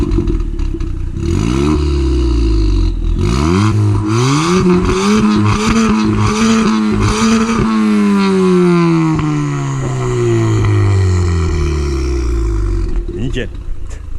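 A Ford Fiesta ST Mk7 with a Stage 2 engine and exhaust tune is revved hard nearby in a series of rising and falling roars and sharp blips, loud and raspy, ending in a long sweep down before settling to idle.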